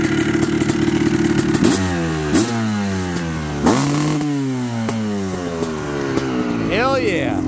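A pristine 2003 Honda CR250R two-stroke dirt bike with a kit shock, run at a sand track in Florida. Repeated loud, close revs climb and fall in sharp blips, with a voice briefly at the end.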